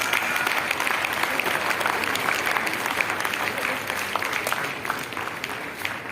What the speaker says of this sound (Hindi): किसी की खिदमत में पेश किया जाए तो तालियां बजाई जाती हैं।